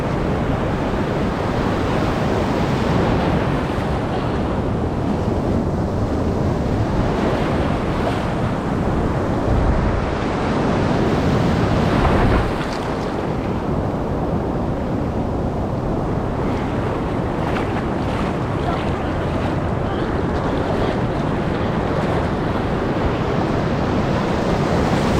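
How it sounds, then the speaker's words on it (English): Huge ocean waves surge and break in deep open water, a loud, continuous roar of surf thick with wind rumble buffeting the microphone, swelling briefly around the middle. "The waves are huge out."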